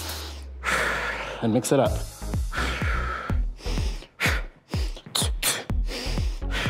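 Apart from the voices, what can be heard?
exhaling sharply while punching in boxing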